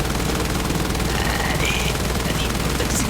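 Machine gun fire in War Thunder, a dense, continuous stream of rapid shots forming a loud, unbroken roar that fills the whole stretch.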